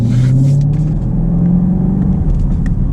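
A 2019 Chevy Camaro SS 1LE V8 with 455 horsepower accelerates hard, its loud, deep engine rumble rising steadily in pitch up close, with no talk over it.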